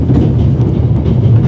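A rolling train in the video game The Raven: Legacy of a Master Thief, a steady, loud low rumble with a constant rolling drone and no clear breaks, heard alone without talk.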